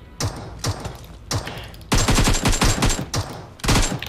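Bursts of automatic gunfire in the mobile battle-royale game PUBG Mobile, several rapid volleys of sharp shots separated by short pauses, loud and close, with no talk over them.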